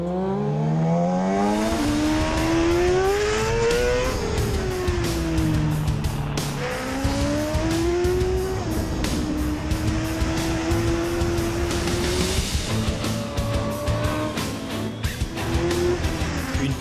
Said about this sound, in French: le pilote Yamaha va enchaîner quelques tours de piste pour s'échauffer.